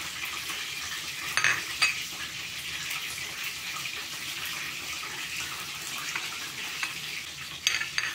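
Chicken wings sizzle and fry steadily in a pan, a continuous crackling hiss with a few louder clinks and scrapes of a utensil near the start and end; no one speaks.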